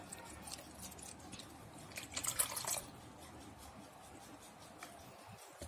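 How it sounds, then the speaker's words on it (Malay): Coloured water trickles and splashes into a container in a quiet indoor setting, a soft continuous pour that swells briefly in the middle before settling into faint dripping. "masukkan air berwarna dalam ini"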